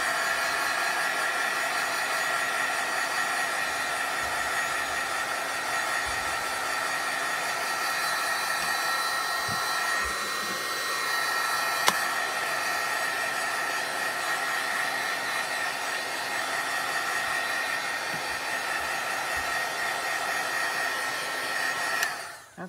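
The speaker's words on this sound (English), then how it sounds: "So I'm going to hit this with the heat tool real quick." A heat tool blows hot air to dry ink in a continuous, loud, steady whoosh lasting over twenty seconds. It wavers slightly midway and cuts off abruptly at the end, with no one speaking.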